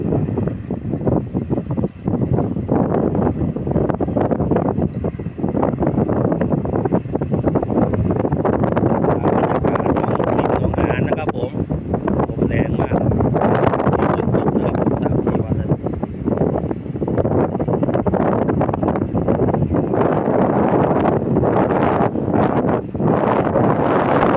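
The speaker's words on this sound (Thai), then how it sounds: "ลมแรงนะครับผม ฝนก็ยังตกปล่อย" Strong wind buffets the microphone outdoors during rain in a continuous, heavy rumbling roar that surges and dips without letting up, drowning out everything else.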